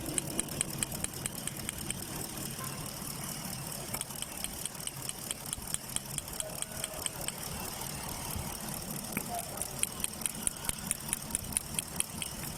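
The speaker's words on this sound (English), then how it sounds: "that's a Chevrolete Caprice V8 engine" A Chevrolet Caprice V8 idles roughly with a misfire, heard faintly under a regular ticking pulse that stays steady throughout with no voices.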